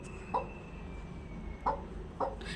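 Chickens give three soft, short clucks spread through a few seconds over a steady background hum, fairly close and not loud, with no one speaking.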